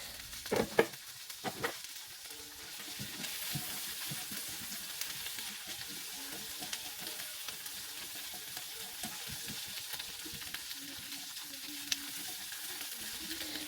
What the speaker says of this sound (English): I'm sauteing it until slightly tender because I still want a little bite to it.